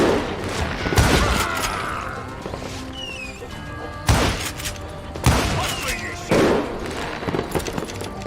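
Several loud, separate gunshots ring out in a western video game set in a saloon, spaced a second or more apart over background game noise.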